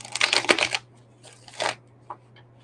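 Tarot cards are shuffled by hand in two quick papery bursts of riffling, the first longer and louder, followed by a faint soft tap, close by with no talking.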